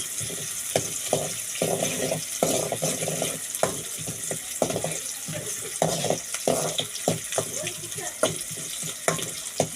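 Pieces of octopus fry in a pan for a curry, sputtering and crackling close up with irregular pops and scraping stirs over a steady sizzle, with no one speaking.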